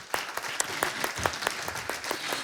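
Audience applause at a patriots' evening gala in Saguenay-Lac-Saint-Jean, a dense steady clapping from a crowd that holds at an even level throughout, with no voices over it.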